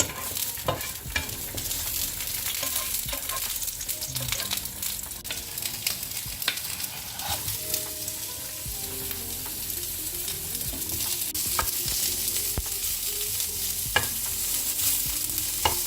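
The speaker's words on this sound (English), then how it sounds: "Now let's add some green chilies and let's saute it." Green chilies sauté with mustard seeds and curry leaves in hot oil for sambar, a steady close sizzle broken by frequent clattering stirs and small pops, no voices.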